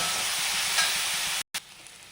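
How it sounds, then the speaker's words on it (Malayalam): Sliced onions with salt sautéed in a pan, a loud continuous sizzle close up with a brief cut, briefly heard with no speech. "അപ്പോൾ ഒന്ന് സവാള ഒന്ന് വാടി വരട്ടി നമുക്കിതിൽ ഉപ്പിട്ട് കൊടുക്കാം"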